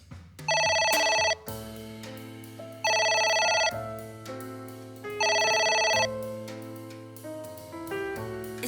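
A telephone rings in the video game AI: The Somnium Files, sounding three long bright electronic bursts at a steady interval, with a soft musical bed running underneath and between the rings.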